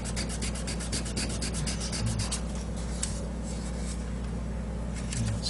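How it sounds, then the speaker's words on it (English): A diecast model's JB stick filler is sanded by hand, producing a steady close-up rasping rub in quick repeated strokes over a low constant hum. "So I don't sand too much off so that it falls through the inside."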